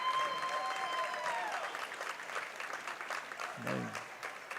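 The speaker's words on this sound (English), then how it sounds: "And the Breck County fans still cheering." Basketball fans at a boys' district championship game in Kentucky cheer and applaud steadily in a gym, a dense wash of clapping and crowd noise with a brief squeak near the end.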